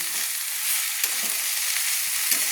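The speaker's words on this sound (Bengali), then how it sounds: "দিয়ে ভালো করে আমি নেড়ে নিচ্ছি" Greens and taro (kochu) stirred in a hot oily pan, a continuous close sizzle with a few soft scraping knocks of the spoon, no voices.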